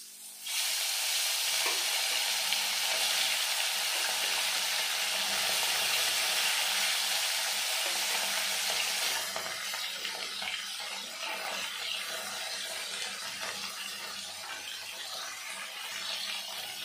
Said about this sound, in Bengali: এবার আমি মাছগুলো ভেজে নেব।